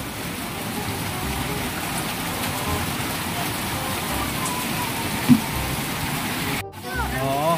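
Heavy rain pours in a dense, steady hiss during a power outage, with a brief thud and a short dropout near the end and faint voices beneath the downpour.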